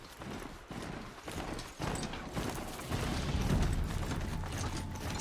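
In the Horizon Zero Dawn video game, a ridden mount's hooves make a rhythmic clip-clop that grows busier over a dense, noisy game soundscape of mechanical clatter.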